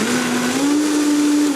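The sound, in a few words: blender blending coconut and nut yogurt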